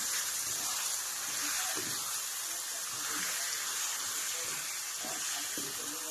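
Chicken sizzles steadily in a hot pan while being fried for a chicken rassa curry, a continuous close hiss with occasional faint low clatter underneath.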